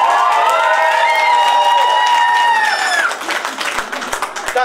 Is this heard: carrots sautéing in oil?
no